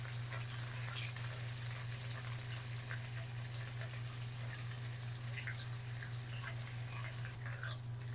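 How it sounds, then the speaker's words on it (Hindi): Freshly pounded garlic and ginger paste fries lightly in a pan, giving a steady, close sizzle under a constant low hum, with occasional stirring sounds. "लहसुन अदरक को भी फ्राई कर लिया है"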